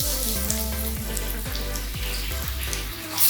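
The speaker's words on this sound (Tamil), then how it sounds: "இது நல்லா வதங்கட்டும். வெங்காயம் வதங்கிடுச்சு." Onions frying in a pan, a constant close sizzle with repeated rhythmic low scraping strokes of stirring roughly every half second, fairly loud and uninterrupted.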